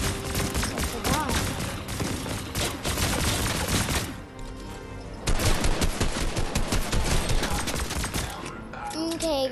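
Gunfire in the Fortnite video game, dense rapid bursts of shots almost without pause, a brief lull midway, then another long volley, loud throughout.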